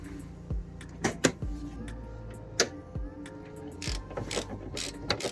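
Front bumper coming off a Lexus IS200, held on mostly by cable ties: scattered close clicks, ratcheting snaps and plastic knocks at an irregular pace, with a few sharper thuds, moderately quiet and with no talking.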